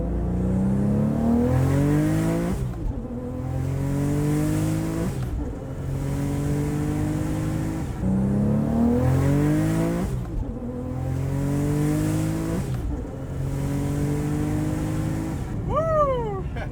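A Porsche 911 Turbo engine revs up hard through several gears, each climb cut by a brief dip at the shift, loud and close, ending with a tire squeal.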